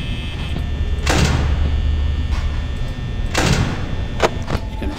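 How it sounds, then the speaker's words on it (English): Heavy doors in the Five Nights at Freddy's video game shut with two loud mechanical whooshing thuds a couple of seconds apart, over a constant electrical hum, with a sharper click near the end. "I'm gonna shut that door."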